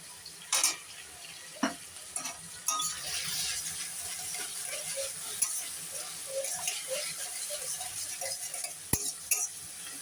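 Vegetables stir-fry in a pan for veg fried rice, a soft continuous sizzle broken by scraping and clattering of a spatula against the pan.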